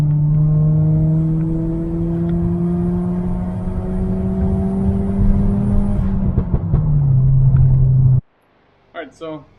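A turbocharged Toyota Corolla fitted with a cold air intake on a test drive: a steady, loud engine drone and road rumble from inside the cabin, rising slightly in pitch, before cutting off abruptly near the end as a voice briefly speaks.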